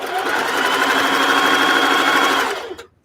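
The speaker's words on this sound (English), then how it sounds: "fabric and your ribbon feeds through the sewing machine at the same time." A sewing machine with a walking foot stitches fabric and ribbon together, running in one steady, close, continuous whir for a few seconds before stopping abruptly.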